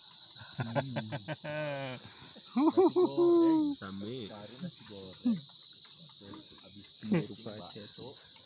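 Crickets on a mountain forest trail on Mount Tangkit Tebak in Lampung keep up a steady, high, continuous trill, while people talk close by over it.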